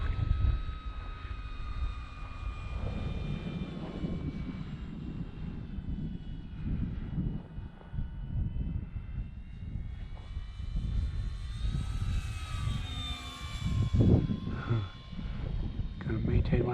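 A Dynam Hawker Hurricane V2 radio-controlled model warplane on its maiden flight, running on a four-cell 2200 battery: a whining electric motor rises and falls in pitch as it passes and turns overhead, heard steadily at moderate distance amid outdoor wind noise.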